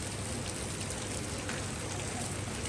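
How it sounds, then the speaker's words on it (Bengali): Rain falling during a sun shower, a steady dense hiss of drops spattering on surfaces, continuous and fairly close with no voices over it. "দেখুন রোদের মধ্যে বৃষ্টি,"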